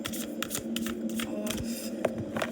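Tarot cards being shuffled close by, soft crisp riffles and slides of the deck in quick bursts, fairly quiet against a low steady hum.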